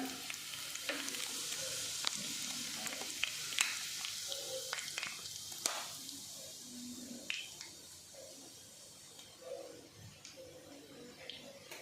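Cumin seeds sizzle in hot oil in a kadhai, a soft crackling hiss with small pops and occasional stirring clicks, fading gradually toward the end.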